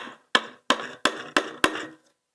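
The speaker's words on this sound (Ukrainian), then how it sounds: "Так, легенько молоточком" Five sharp, evenly spaced taps of a small hammer lightly striking the thin metal of a lawnmower under repair, each ringing briefly before the next, close and fairly loud.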